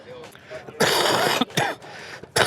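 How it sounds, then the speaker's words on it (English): Several harsh, explosive coughs come in bursts, loud and close, with quieter breathing and murmurs between them. "Coughing like crazy."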